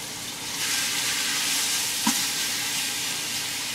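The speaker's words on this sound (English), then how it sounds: "we are just going to let that cook until the pink cooks out of the bacon" Onion, garlic and bacon sizzle steadily in a pot, a continuous broad frying hiss with one brief clatter near the middle.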